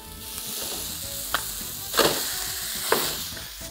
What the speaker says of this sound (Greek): Τώρα, ρίχνω μέσα το κιμά μου